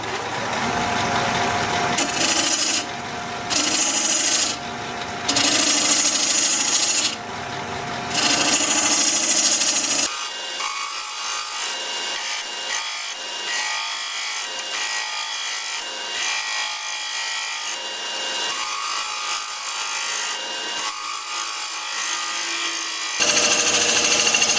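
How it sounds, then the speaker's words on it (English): A half-inch bowl gouge cuts a wooden bowl spinning on a lathe, giving loud, scraping, rasping passes broken by short pauses, with a steadier stretch of cutting in the latter half. "1/2" bowl gouge to do that with"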